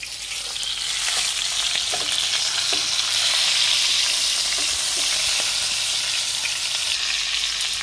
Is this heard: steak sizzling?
yes